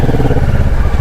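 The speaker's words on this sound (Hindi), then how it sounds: "ये देखिए बहुत मुश्किल है यहाँ से चढ़ाना, फुल्ली लोडेड बाइक।" A fully loaded motorcycle carrying bags and jerry cans labours uphill toward Khardung La near Leh, its engine a loud, close, steady low rumble throughout.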